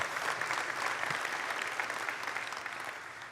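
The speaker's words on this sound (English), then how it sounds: "Yeah, you can clap for that." An audience claps during a WWDC 2019 developer session, with dense, sustained applause that is heard at a distance and tapers slightly toward the end.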